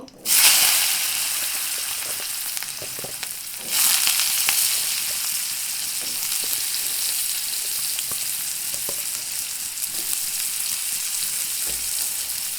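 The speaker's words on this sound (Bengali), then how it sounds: "এখন আলুটাকে একটু ভেজে নেবো" Potatoes frying in a pan with oil, a loud, continuous sizzle that bursts in as they hit the pan and surges again a few seconds later, then holds steady with occasional crackles.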